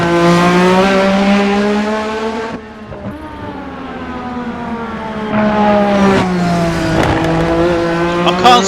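A race car engine in the Assetto Corsa sim revs hard and high, dropping briefly at a gear change before climbing again, loud and continuous with a rising, strained pitch near the limiter.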